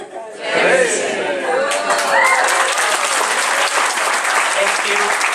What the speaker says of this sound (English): a big round of applause right here for Mark, Dominic, and of course, Juan